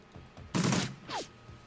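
Submachine gun fire in the tactical RPG Shadowrun Returns, a short loud burst of rapid shots followed by a second, fainter burst with a whizzing tail.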